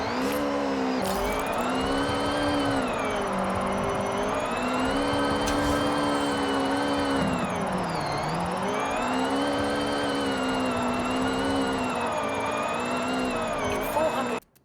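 A 1997 Honda Civic Type R drift car makes sustained passes, its engine note loud and continuous, rising and falling in pitch as it revs through the slides, then cutting off abruptly at the end.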